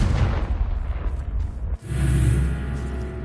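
A Confringo fire spell blasts in Hogwarts Legacy: a loud, dense booming rumble, a brief dip, then a second heavy explosive burst that rolls on with crackling debris.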